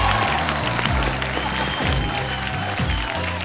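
Audience at a Bhojpuri singing competition show applauding loudly and continuously to welcome judge Kalpana Patowary, a dense, close wash of clapping with no voices over it.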